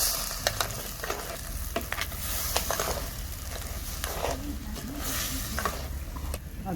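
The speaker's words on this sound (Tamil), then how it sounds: "அரைச்சி வச்சிருக்கிற மசாலா சேர்த்துக்கணும். நல்லா வதக்கிக்கணும்." Ground masala for crab gravy sautés in a pan, a continuous close sizzle and crackle with bursts of sharper spitting and the occasional scrape of stirring.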